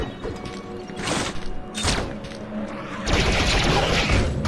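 Samus fires repeated shots at a creature in Metroid: Samus Returns, a string of punchy game blasts and thuds layered over busy in-game sound, loud and dense throughout.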